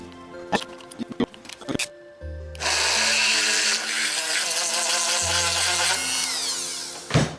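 A few clicks and knocks, then a power drill with a bigger bit whines loudly and continuously for several seconds before stopping with a final clunk.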